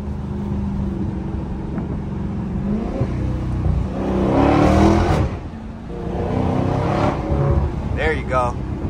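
A 2023 Dodge Scat Pack's V8 revs and accelerates hard, its loud engine note climbing and swelling over wind noise, then easing off before surging again, with a person talking over it.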